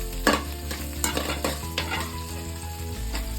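Turmeric and asafoetida are stirred into a hot tempering of chana dal, cashews and green chilies in a pan for mango rice. It sounds like a continuous close sizzle broken by a few distinct scrapes of the spoon, with no voices.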